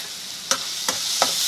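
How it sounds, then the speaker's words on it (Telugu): A spoon or spatula stirs coriander powder into a snack mixture, giving three distinct scraping strokes over a soft, steady background sizzle. "వేసుకొని బాగా కలిపేసుకోవాలి."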